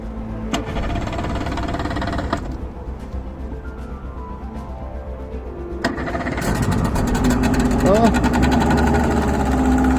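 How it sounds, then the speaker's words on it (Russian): A Yamaha 40 Jet two-stroke outboard jet engine on a Stormline 430 PVC boat with a new fuel system cranks, catches and settles into a buzzing, rising idle, with voices talking nearby. "будем запускать двигатель уже с новой топливной системой, с новым баком"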